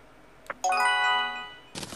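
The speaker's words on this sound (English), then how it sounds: "Text message." A phone's text-message notification plays as a single bright, ringing chime that sustains and slowly fades, following a short click and followed by a burst of noisy game sound.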